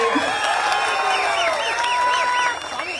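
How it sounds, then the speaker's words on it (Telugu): A crowd at a political speech claps loudly and steadily, with shrill rising and falling whistles and cheers riding over the applause for about three seconds. "ఇది మీరు యాక్సెప్ట్ చేస్తే ఒకసారి గట్టిగా చప్పట్లు కొట్టాలి."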